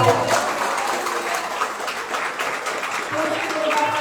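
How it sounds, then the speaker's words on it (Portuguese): A church congregation claps at a worship service, a steady, moderately loud stretch of clapping that carries through the whole moment. "Você pode aplaudir ao Senhor?"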